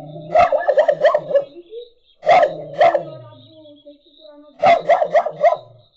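A dog barks in three separate bursts of several sharp, close barks each, with short pauses between them and no talking.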